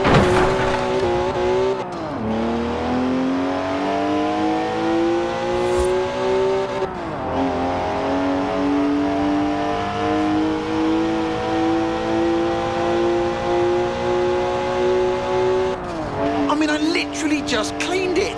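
A BMW 1M in Forza Horizon 4 accelerates hard, its engine revving up through the gears with loud, near shifts and tire squeal toward the end, while a voice talks underneath.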